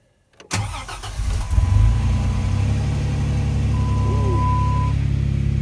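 A 2007 Dodge Dakota 3.7L engine cranks, catches and revs up close, then holds a steady, fast high idle.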